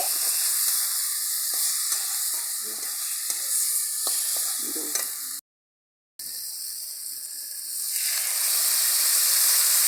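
Food frying in a pan while being stirred, with the fish heads and rice and potato of a Bengali muri ghonto added, making a steady hiss of sizzling with soft scraping and clinks, close, broken by a short dropout.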